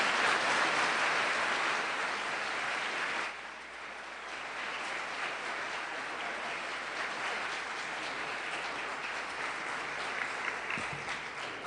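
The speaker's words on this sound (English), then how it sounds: "And audience, you can applaud if you like now" A debate audience applauds steadily for roughly three seconds, a broad, fairly loud wash of clapping, then it thins to softer scattered claps that carry on underneath to the end.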